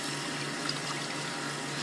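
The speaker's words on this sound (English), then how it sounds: "Now you gotta wash your hand so you don't have to infect it." Warm tap water runs steadily into a sink during handwashing, a continuous close hiss and splash with no pauses and no voices.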